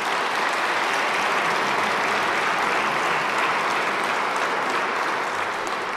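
Steady, dense applause from a large audience at a Russian gathering honoring Putin, loud and continuous throughout with no breaks and no voices over it.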